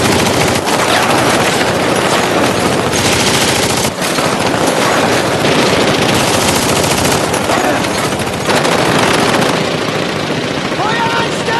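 Sustained machine gun fire and gunfire from a war film battle scene, loud and dense throughout, with bursts overlapping and shouted voices beneath.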